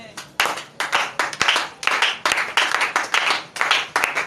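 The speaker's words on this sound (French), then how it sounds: "Acclamons." A church congregation claps together during a worship service, a dense, uneven burst of many hands that swells and falls in quick waves, loud and close, with no voices over it.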